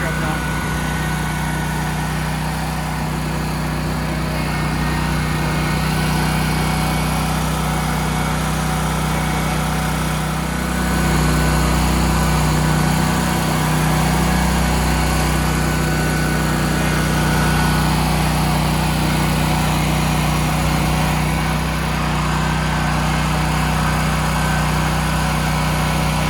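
Toro Grandstand stand-on mower fitted with a Catchpro grass collector, mowing with a loud, steady engine drone and blade whir held close throughout, rising slightly partway through.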